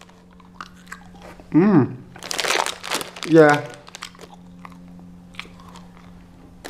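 Danish candy is bitten and chewed up close in two loud crunchy bursts, each followed by crinkling chews, with a brief murmur of approval between them in an otherwise quiet room.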